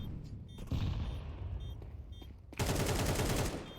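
An AK rifle fires in Counter-Strike: a faint rattle early, then a loud, close burst of rapid automatic shots that carries through to the end.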